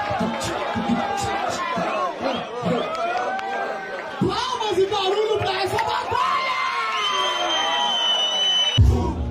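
Fans at a Brazilian rap battle cheer, whoop and shout together as a steady crowd roar, with voices rising and falling loudly across the whole stretch.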